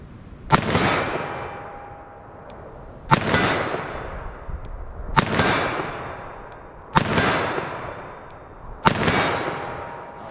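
A .357 Magnum revolver fires five loud, sharp shots into ballistic gel about 40 yards away. The cracks come at a steady pace roughly two seconds apart, each one ringing out and fading into a long outdoor echo.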